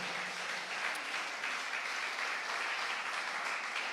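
A church congregation applauding during a Spanish-language sermon, with dense, steady clapping from many people in a large room that keeps an even level for several seconds with no voices over it.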